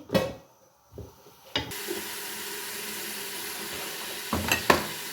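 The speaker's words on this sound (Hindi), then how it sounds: "अब हम इसको थोड़ा सा भूनेंगे।" Garlic, ginger and spice masala for aloo gosht sizzles and fries in a pot, a brief stir and clatter giving way to a steady hissing sizzle, with a few louder scrapes near the end.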